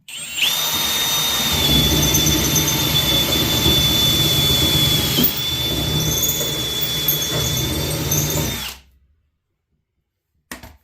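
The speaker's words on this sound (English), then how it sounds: "I just got the same size drill bit that runs, or it fits in this hole, and then I'm just gonna drill it out." A power drill whines steadily at high pitch as it bores through metal on a 2023 Ford F-150, loud and continuous for several seconds before cutting off abruptly.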